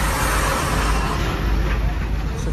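Heavy road traffic near bridge works at an MIDC industrial area, heard as a dense, constant roar of cars, buses and engines with a faint murmur of voices in the background.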